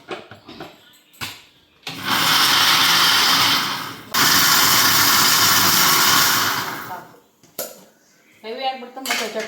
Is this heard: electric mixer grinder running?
yes